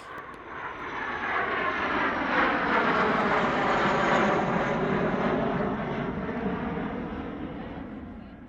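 A classic jet aircraft passes at the Wings Over Illawarra airshow, its broad engine roar swelling to a peak mid-pass and then fading, loud and continuous.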